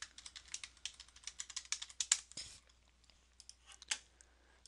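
Fingers type on a computer keyboard while logging into Cyfin software on a CyBlock appliance. The keystrokes come in a quick, close stream of crisp clicks with a brief pause partway through, fairly quiet and with no talk.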